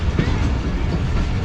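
The Rehman Baba Express rolls through a station loop in dense winter fog, a loud, continuous rumble of wheels and carriages with a faint clatter, heard from on board.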